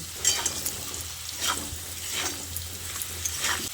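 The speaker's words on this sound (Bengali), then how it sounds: "এবার নুন, হলুদ আর লঙ্কার গুঁড়োটা দিয়ে আলুর সঙ্গে ভালো করে মিশিয়ে নিচ্ছি" Potatoes seasoned with salt, turmeric and chili powder are stirred in a hot pan for a vegetarian drumstick (sojne data) dish, with a steady close sizzle and repeated scraping strokes of the spoon.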